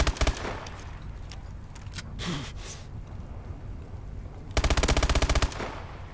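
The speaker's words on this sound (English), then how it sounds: "Time to run with my machine gun." Machine gun fire in the video game Call of Duty: a rapid burst opens, scattered shots and a faint gasp follow, then a long, loud burst of automatic fire near the end.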